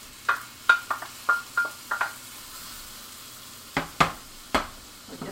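Shrimp goes into a pan of linguine in coconut milk and is stirred. A series of sharp, close scrapes and clacks come in an irregular rhythm over a faint sizzle, with a pause in the middle.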